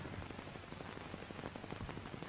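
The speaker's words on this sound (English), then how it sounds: "Oh, it's starting to rain." Rain begins to fall in a 1930s drama scene, a steady dense patter of drops on a surface, fairly loud and continuous with crackling impacts throughout, no voices.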